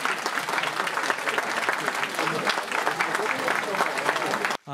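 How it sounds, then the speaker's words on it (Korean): Guests applaud at a traditional Korean wedding ceremony held at Woninjae, a loud, dense burst of clapping from a crowd, with voices mixed in, breaking off abruptly at the end. "여러분 큰 박수 보내주시기 바랍니다."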